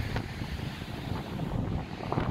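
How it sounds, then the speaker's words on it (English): Ocean surf rolls onto a public beach in Malibu as a steady, loud roar, with wind buffeting the microphone throughout and no voices. "Hope you can hear me above the surf."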